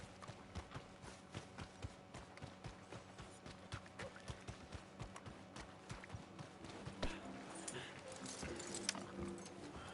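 Horse hooves clop in a steady galloping rhythm across open ground in Red Dead Redemption 2, close and fairly loud, with a busier mix of ambient game sounds building toward the end.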